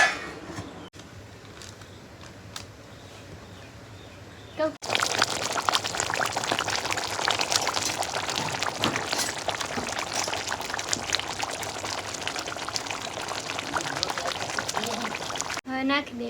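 Stuffed whole brinjal curry, village-style Gujarati cooking with a glass of water just added, hissing and bubbling in the pot. A steady, loud sizzle starts abruptly after a quiet opening and runs about ten seconds before cutting off.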